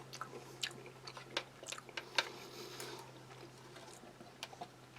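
Crackers mixed into sauce from a Polish 24-hour ration are chewed up close, giving soft, irregular crunchy clicks and moist squishes against a very quiet background, with no talking.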